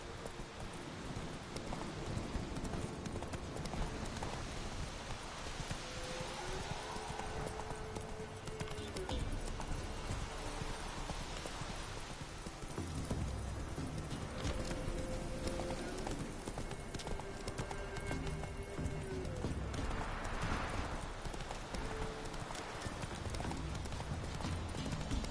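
Hooves of the horse Roach clip-clop in a steady galloping rhythm across ground in The Witcher 3, continuous and fairly close throughout, with faint ambient game sounds and no clear talk.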